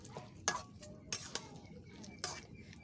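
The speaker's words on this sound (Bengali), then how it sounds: "আপনারা দেখুন, একটু নাড়াচাড়া দিয়ে নিচ্ছি" Beef for kala bhuna is stirred in a cooking pot, a spoon giving a few faint, scattered metallic clinks and scrapes against the pot in a quiet kitchen.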